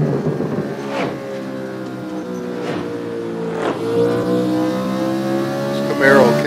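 A Chevrolet Camaro on the Nardo track revs hard with steady engine drone and rising, shifting harmonics, a few sharp bursts breaking through, while a voice talks over it.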